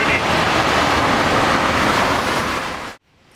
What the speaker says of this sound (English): It's a rainy day in Southern California.